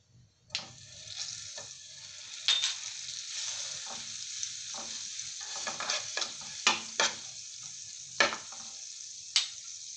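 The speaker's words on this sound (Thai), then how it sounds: "ตั้งกระทะนะคะ เปิดเตาไฟอ่อนค่ะ จากนั้นใส่เนยลงไปค่ะ" Butter sizzling in a frying pan over low heat, a steady hiss with scattered sharp pops and crackles, close and moderately loud.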